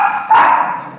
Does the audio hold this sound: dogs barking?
yes